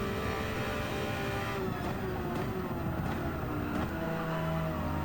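A race car engine in Gran Turismo 7 roars steadily throughout, with the pitch shifting as it revs up and down under braking, loud and continuous with no talking.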